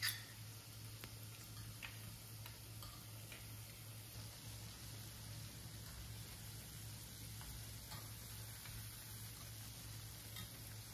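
Gluten-free bolinhos frying in hot fat give a faint, steady bubbling sizzle throughout, with occasional tiny pops and ticks and no talk.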